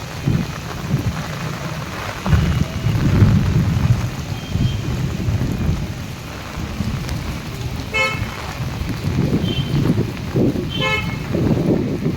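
Heavy monsoon rain pours steadily while low thunder rumbles through, with a couple of faint horn beeps in the distance, in Mullassery, Thrissur, Kerala.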